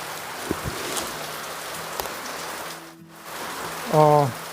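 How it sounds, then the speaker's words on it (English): Heavy rain falls outside during an indoor product unboxing, a steady hiss throughout with a few soft taps and a short tonal beep near the end. "Sorry for the poor lighting and the rain noise"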